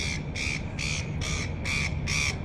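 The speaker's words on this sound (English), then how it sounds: "There's some birds. Welcome to Sydney, the seagulls." Seagulls in Sydney giving six evenly spaced, harsh squawking calls in a steady rhythm, fairly close and clear over low background noise.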